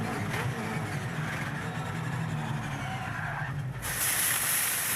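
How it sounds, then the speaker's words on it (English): David Reynolds' race car, driven for Brad Jones Racing, recorded on board as its rear brakes lock: a steady engine roar with tyre scrub underneath, then a sudden harsh hiss near the end. "There was a bit of rear brake locking going on there"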